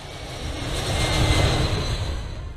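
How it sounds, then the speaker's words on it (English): Engines of a C-17 military transport aircraft carrying paratroopers hum in a steady, broad low drone that swells slightly and holds throughout, with no voices. "The hum of the engines and the rattling of the airframe"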